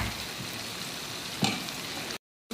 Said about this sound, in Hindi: ये देखिए ये फ्राई हो रहे हैं माशाल्लाह, देखिए कितने प्यारे फ्राई हो रहे हैं।